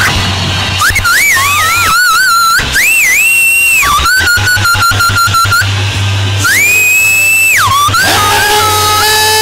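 A church congregation whistles loud, sliding, sustained tones with bursts of rapid trills, over a steady low hum.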